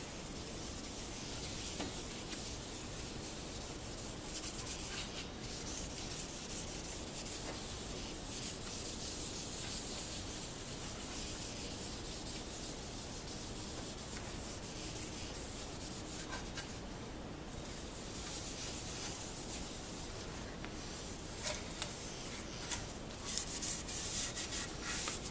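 A rag rubs yellow and red dye into a maple burl Telecaster guitar body, making a soft, continuous scrubbing hiss, faint and close, with occasional light knocks near the end and no talking.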